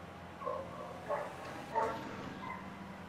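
A dog in Grand Theft Auto V gives a few faint, short barks or yips spaced about a second apart, distant and low under quiet game ambience.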